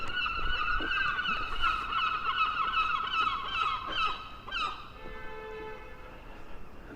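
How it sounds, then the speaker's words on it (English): Repeated honking herring gull calls ring out over steady street noise in Blackpool, England, several birds calling in overlapping bursts at moderate distance. "the herring gulls."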